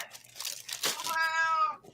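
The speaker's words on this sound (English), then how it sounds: "Now the cat's in here making noise." Indoor cat meowing once in a long, clear, drawn-out cry near the end, preceded by rustling and crinkling of handled paper or plastic nearby.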